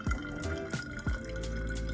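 Spring water is poured into a container to prepare plants for a tropical storm, a short burst of splashing and dripping that settles into a steady trickling fill, close and fairly quiet, without speech.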